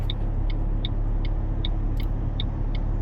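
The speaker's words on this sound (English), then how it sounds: "Driving back home now." Steady low road rumble and engine drone from inside a car driving home after work, with faint regular ticking like a turn signal clicking about twice a second throughout.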